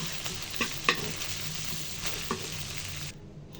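Chicken chaap being stirred and mixed in a pan, giving a continuous soft sizzling hiss with a few light scraping taps of the spatula, close by, before cutting off abruptly at the end.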